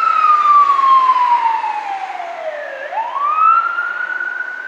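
An emergency vehicle siren wails loudly and steadily, its pitch sweeping down in a long fall before jumping back up and holding high, with no one talking.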